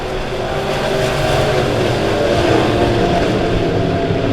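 Midwest Modified race cars roll off for a heat race at Springfield Raceway on opening night, a loud, dense roar of several engines droning together without a break, steady and close.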